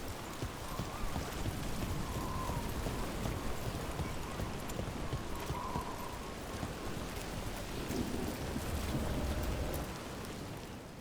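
Steady rain falls in the video game Dragon Age: The Veilguard, a soft constant patter and hiss at low volume, mixed with faint clopping footfalls and a muted voice.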